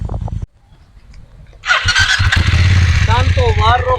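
Motorcycle engine on an off-road riding course in Paraguay, quiet at first, then a loud close engine roars up and holds steady with revving shifts, while people talk over it.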